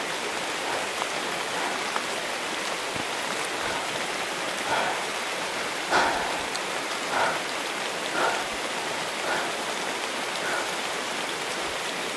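Steady rain falls outdoors near a hut in the forest, a dense even patter with a few slightly louder drops hitting nearby surfaces, and no voices.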